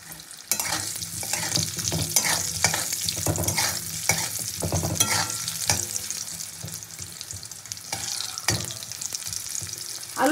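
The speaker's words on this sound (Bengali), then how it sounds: "তো আলুটা আমি লাল লাল করে ভেজে নিয়েছি" Potato pieces fry in hot oil with turmeric and salt, giving a steady, close sizzle broken by repeated scraping stirs of a spatula. No one speaks.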